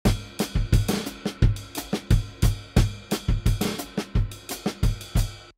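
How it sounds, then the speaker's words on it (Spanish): An acoustic drum kit recording, played back without warping, plays a steady groove, punchy kick and snare hits landing in a regular rhythm with cymbal wash, loud and close. "Tripliqué mi batería grabada sin método de warp"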